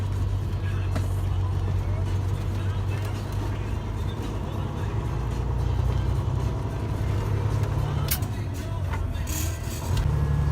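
A classic Peterbilt 18-wheeler semi truck cruises on the highway, its deep, steady diesel drone and road rumble heard from inside the cab, continuous and loud with a few brief clicks.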